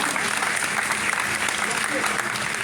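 An audience at a public ceremony applauds a departmental director, with continuous dense clapping from a crowd, fairly loud, and voices mixed in underneath.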